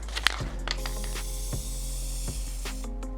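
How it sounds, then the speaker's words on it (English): Spray from a can hisses into the inside of a DIY crystal ball prop in several short bursts, close and moderately loud over a steady low electrical hum. "Now we're going to spray the inside of this"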